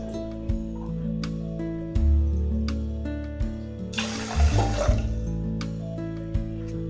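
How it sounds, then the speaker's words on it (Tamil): Water is poured onto rice in a pressure cooker, a brief splashing rush of about a second over steady background music. "அரிசி எடுத்து அதே கப்பில் 2 கப் அளவுக்கு தண்ணி சேர்த்துக்கலாம்."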